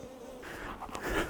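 Honey bees buzzing at an open hive during a brood frame inspection, a steady close hum with a few louder passes as bees fly near.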